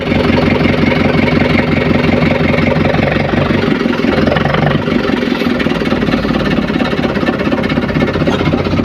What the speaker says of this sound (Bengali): এবারে নৌকোটা ব্যাকে নিয়ে চলে যাবে, এখান থেকে চলে যাবে